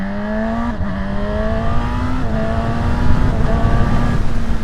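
A 2025 Honda CB1000 Hornet motorcycle engine revs loud and close while riding, a steady rising drone broken by quick gear shifts that dip and resume the pitch, with wind rush underneath.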